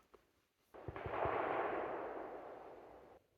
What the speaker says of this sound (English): Like an hour of silence and then gunshots.